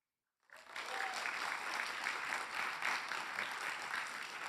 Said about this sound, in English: let's give them a round of applause to all the startup teams here today